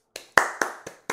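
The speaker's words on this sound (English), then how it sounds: "Cue the clapping noises." A few sharp, close hand claps in an irregular sequence, about five distinct smacks with short decays and silence between them, no talking.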